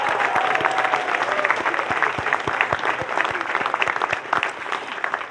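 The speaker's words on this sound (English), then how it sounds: "another round of applause for all of our winners" At a law school commencement ceremony, a large audience applauds the award winners with dense, sustained clapping that stays loud throughout before thinning slightly at the end.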